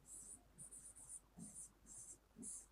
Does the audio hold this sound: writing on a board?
yes